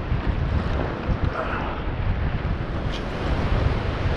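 Steady wind buffeting the microphone on the New River while fishing from a paddled boat near falls and current, a constant broadband rush with faint water movement underneath and no talking.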